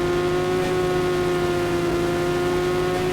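A motorbike engine holds a steady, loud drone at speed, its strong tonal hum sustained without pause and close by.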